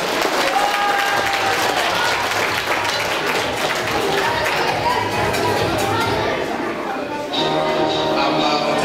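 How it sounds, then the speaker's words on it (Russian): A crowd applauds loudly and steadily for several seconds, a dense wash of clapping that thins slightly near the end. "Бурные аплодисменты!"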